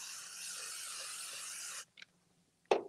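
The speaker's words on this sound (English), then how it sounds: "I'm going to spray base the back of it" Spray baste hisses onto the back of a quilt appliqué in one continuous, fairly loud burst lasting almost two seconds, followed by a brief faint puff and a sharp handling clatter.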